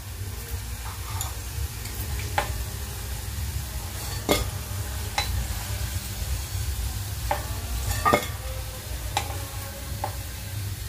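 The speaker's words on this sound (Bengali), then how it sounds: "এগুলো ভাজা হয়ে গিয়েছে, এগুলোকে এবারে আমি নামিয়ে নিচ্ছি।" Vegetable bread rolls fry in hot oil with a steady, soft sizzle and bubbling hiss throughout, broken by a few sharp clicks and taps of a utensil against the pan, and no talking.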